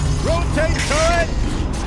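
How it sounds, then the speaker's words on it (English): A turret rotating mechanism in the video game Horizon Zero Dawn gives a short mechanical whir with several rising, whining tonal sweeps over a low hum. "Rotate turret!"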